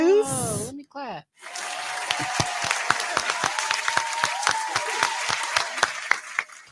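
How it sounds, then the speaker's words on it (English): A single person claps hands in a quick run of sharp, close, evenly spaced claps after a brief spoken word and a pause. "let me clap."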